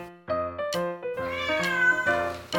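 A pet cat meows repeatedly in a home, a run of loud, close, drawn-out cries one after another with barely a pause between them.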